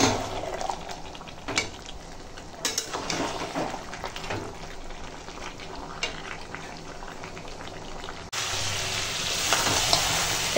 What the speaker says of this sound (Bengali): আর আমি মাংসটা কষাই।